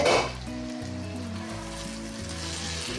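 Vegetables frying down in oil for a dried rita fish dish: a continuous sizzling hiss with soft stirring, a louder burst at the start settling into an even, moderate fry, no speech.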